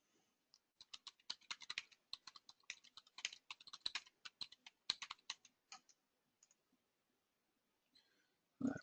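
Someone types a short note on a computer keyboard in an office webinar setting, producing a quiet, close run of irregular key clicks that thins out and stops, without speech.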